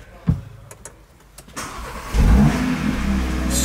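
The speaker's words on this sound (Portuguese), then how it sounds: "Vamos ver, vira a chave dele pra nós aí. Pisa no freio." Audi RS starter cranks after a few clicks, then the engine catches and revs into a loud, steady throaty roar close by.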